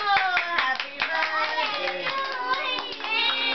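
Audience hands clapping in quick, uneven bursts at an Indian stage show, fairly close and loud, with children's voices and cheering mixed through the applause.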